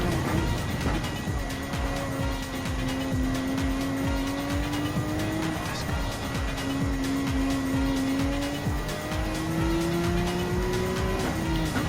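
A Porsche 911 RSR race car in Gran Turismo 7 roars continuously at high revs, engine pitch climbing and dropping through gear shifts, with tire squeal mixed in and no talk.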